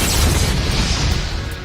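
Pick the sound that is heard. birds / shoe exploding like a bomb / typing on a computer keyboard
shoe exploding like a bomb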